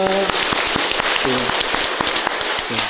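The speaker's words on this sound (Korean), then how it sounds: "우리 박수로 환영했습니다" A church congregation at Sunday worship claps in welcome for a newly registered member, with scattered sharp claps over a noisy room and brief tonal voice-like bursts breaking in.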